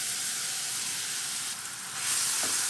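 Ripe bananas fry in ghee with a soft, steady sizzle and hiss, briefly brightening midway before settling back, heard alone without talk.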